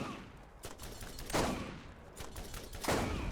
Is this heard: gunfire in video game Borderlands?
yes